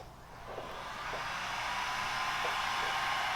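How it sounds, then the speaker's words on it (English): A heat gun blows a steady, rising hiss while warming the backside of a carbon fiber front lip for a 2001 BMW E46 M3 so it can be molded to the front bumper; no one speaks. "Then you get a gun, just kind of heat up the backside in order to mold it better to the front bumper."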